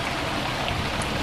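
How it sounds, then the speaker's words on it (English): Water fountains splash steadily at a Las Vegas hotel pool, a dense, even hiss of falling water with no pauses over the brief stretch, fairly close and loud. "But they have water fountains out there."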